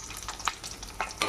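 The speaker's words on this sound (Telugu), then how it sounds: "బాగా ఇదిగో ఇలా కాకరకాయ ముక్కలు ఫ్రై చేసుకోవాలండి" Pieces of bitter gourd fry in a pan of oil with a soft, crackling sizzle and a few sharper pops and stirring scrapes over just over a second.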